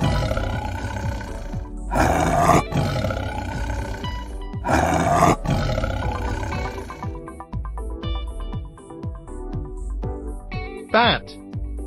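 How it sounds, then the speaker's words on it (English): A tiger roaring, two deep, loud roars in the first half over background music, followed by quieter grunting sounds and musical tones. "Tiger."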